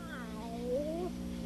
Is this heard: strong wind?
no